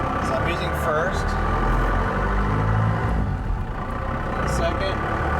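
Engine of a manual-transmission Ford F150 pickup pulling in first gear, a steady loud low drone filling the cab throughout, with a few faint higher tones over it.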